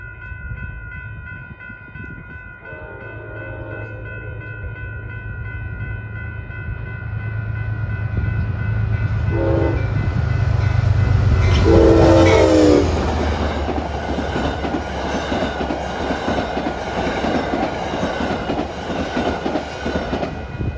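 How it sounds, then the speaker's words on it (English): A Metro-North commuter train running from Grand Central to Poughkeepsie, hauled by a New Haven heritage locomotive, approaches and roars past, its rumble swelling to a loud peak with horn-like tones before a long, steady rush of passing cars. "Here comes train 8:55. Grand Central to Poughkeepsie."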